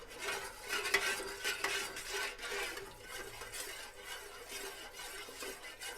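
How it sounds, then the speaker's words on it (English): A spoon stirs melted soy wax for candles in a metal pot, producing soft, continuous scraping and swishing strokes back and forth, quiet and close with no talk. "So we can stir this a little more since I was talking a little bit during the stirring process."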